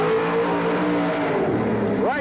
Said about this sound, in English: Really got the torque as he comes off of that corner.